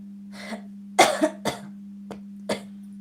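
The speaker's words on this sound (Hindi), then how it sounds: "खांस रहे हैं, हंस नहीं रहे हैं, खांसी आ रही है उनको" Several short, harsh coughs in an uneven burst, fairly close, with a steady low hum running underneath.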